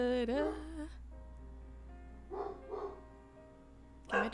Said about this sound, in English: But the dogs, they won't stop. I don't know. I have no idea what they're barking at.